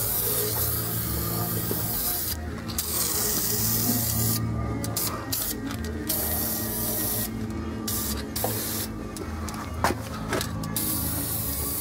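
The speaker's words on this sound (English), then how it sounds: "Spray it up." A continuous hissing aerosol spray of lubricant onto rusty parts during a car rim change runs steadily throughout, with brief pauses and light rubbing sounds between bursts, close and fairly loud.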